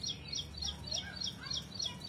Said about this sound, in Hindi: चिड़िया लगातार बोल रही है